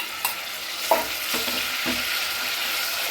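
Dried prawns fry in hot oil in a pan, giving a steady sizzle with a few stirring scrapes and soft clinks near the start, and no talking.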